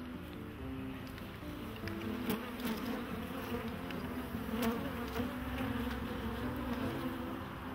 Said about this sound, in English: or that's just a lot of bees?